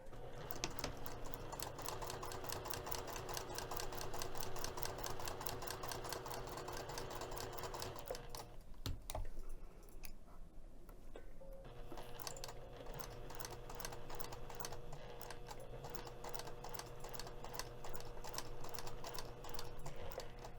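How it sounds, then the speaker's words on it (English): A sewing machine stitches the seam of a fabric messenger bag. Its rapid, steady mechanical whir runs close and continuous, with a brief pause partway through before the stitching resumes. "I'm just going to be sewing this edge right here using 1/4 inch seam allowance"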